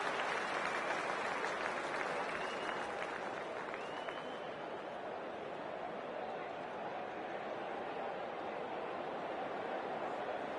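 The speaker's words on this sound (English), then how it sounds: "already the crowd is up and about" Stadium crowd in the cricket video game Cricket 26, playing a PS5 online T20 match, cheering and applauding in a steady, dense roar that holds at an even level throughout.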